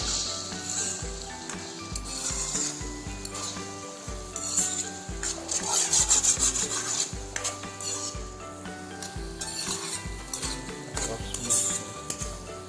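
A spoon scrapes and clinks against a pan as chili powder is stirred into a sizzling ridge gourd egg curry, with steady frying hiss and repeated metallic knocks, close and clear.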